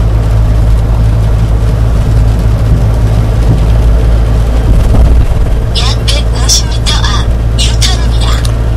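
A car engine hums steadily from inside the cabin during a Korean road driving test while someone talks over it; a ticking left turn indicator clicks in the later part.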